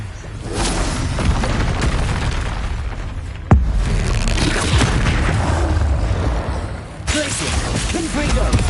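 Repeated booming spell blasts from Hogwarts Legacy combat, including an Expulso explosion, with a sharp loud burst midway amid continuous dense magical impacts and rumble, with voices calling out spells.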